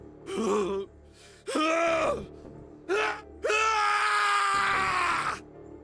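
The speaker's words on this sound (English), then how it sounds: "The scream echoed through the incineration chamber full of rage and despair." Several anguished screams and groans in bursts from the video game Zero Escape: 9 Hours 9 Persons 9 Doors, the last one long and sustained, rising and breaking with strain, loud and close against quiet gaps.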